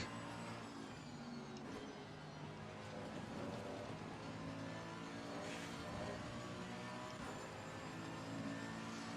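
Race car engines in the Assetto Corsa Competizione video game during a daily race at Zolder, a steady dense roar of several cars running together with no letup and no talk.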